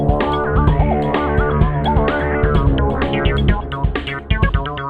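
Snare drum shaped with EQ alone, giving a boxy, rolled-off tone, hits steadily inside a loud, dense full mix of drums and music with no talking.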